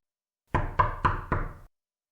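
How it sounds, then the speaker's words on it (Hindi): Four firm knocks on a door in a quick, even sequence, close and clear against silence. "तभी दरवाजे पर नॉक हुआ।"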